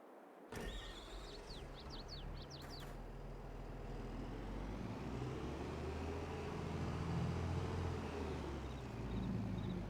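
A Rubicon vehicle in Farm Sim 22 starts up with a few clicks and a whirring, then its engine drones steadily and gradually grows louder as it drives.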